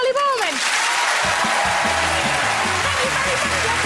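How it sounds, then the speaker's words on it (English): Studio audience applause for a guest, Charley Boorman, on a TV chat show, broad and sustained for a few seconds, with a voice heard briefly at the start. "a big round of applause for Charley Boorman."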